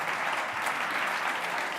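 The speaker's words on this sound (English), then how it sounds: "So this applause for you." Crowd applause at a live event, a thick unbroken patter of many hands clapping, fairly loud and even across the whole stretch.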